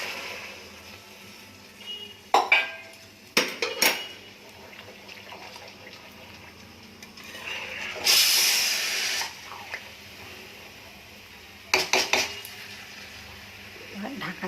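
Hot water is poured into a pan of sizzling spiced curry, giving a sudden loud hiss and steam burst in the middle, set between clattering knocks of utensils on the pan, with a voice speaking faintly at times.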